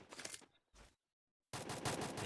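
Rapid automatic gunfire from the Free Fire battle royale video game, loud bursts broken by a short silent gap, then a dense sustained volley of shots close up.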